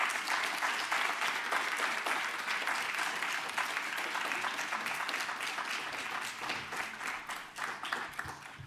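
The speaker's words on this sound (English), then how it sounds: "Please give them a second round of applause." Applause from the audience at a sustainability research and innovation congress plenary, a steady, dense clatter of many hands that continues for several seconds and thins a little toward the end, with no one speaking.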